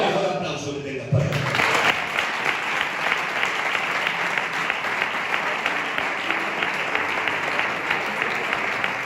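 Church congregation applauding during a service in Orcasitas, with a voice at the start giving way to a long, even round of close, dense clapping that holds steady to the end.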